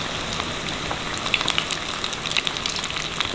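Cheesy potato balls frying in shallow oil, a steady loud sizzle with crackling pops scattered through it, continuous and close with no voices.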